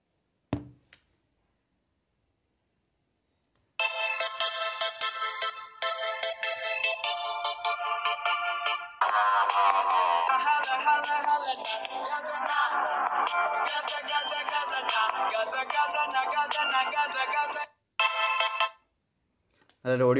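A ringtone melody plays loud and continuous through the speaker of a Xiaomi Redmi 4A phone, starting after a short silence, with brief gaps and a final short burst at the end.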